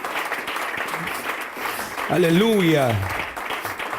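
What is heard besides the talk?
congregation applauding in church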